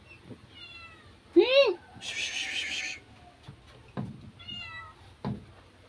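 A cat gives one loud, rising meow between softer mewing calls, with a hiss-like burst and a few dull knocks nearby.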